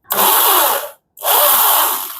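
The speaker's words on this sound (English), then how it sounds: "So if you drill it too fast, then you might be cutting a lot more metal a lot more faster" Power drill boring into metal in two loud, sustained bursts separated by a brief pause, close up with no talking.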